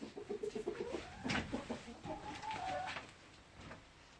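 Hens and a Trabzon rooster in a coop, the rooster making a nest spot for a hen, cluck in a quick run of short notes, then a louder squawk and a drawn-out call, fairly faint and nearby.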